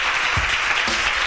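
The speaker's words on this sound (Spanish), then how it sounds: "Un aplauso para ellos," A studio audience at a Spanish television talk show claps for newly introduced guests, a short, dense burst of applause that fills the whole moment.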